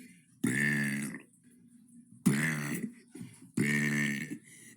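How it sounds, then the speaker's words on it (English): Three loud, drawn-out burps come one after another, each a deep, resonant belch lasting under a second, separated by short quiet gaps. "That was day 11 of burping for 100 days"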